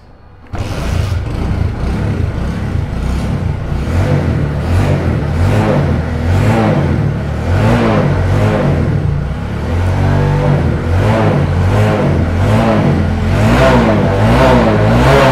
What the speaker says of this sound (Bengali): এই দেখেন বাইকটা এখন স্টার্ট নেবে